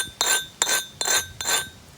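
Four sharp, ringing strikes land at an even pace on a large, thin flint blade during direct-percussion knapping, each a loud glassy crack with a bright, lingering ring.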